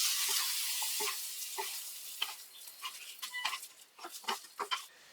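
Cooked kalakand, a milk sweet, is scraped from the pan into a ghee-greased bowl, giving soft sticky scraping and squelching strokes over a faint sizzle. Spoon scrapes come close and irregular, with no speech.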